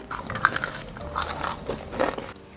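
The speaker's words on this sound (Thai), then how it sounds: "ตอนนั้นนี่คือเคี้ยวแล้วดังกรบกบกบกบเหมือนกินข้าวเก็บปุ้งเลย" A crunchy snack chewed up close, with crisp bites and crackling crunches in an uneven rhythm over about two and a half seconds, loud and alone.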